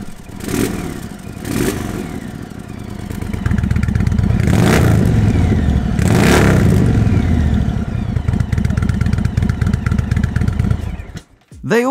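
An Indian Super Chief Limited motorcycle fitted with a Jekyll and Hyde exhaust rumbles loud and close, with deep revving blips that swell into a sustained throaty roar before cutting off abruptly.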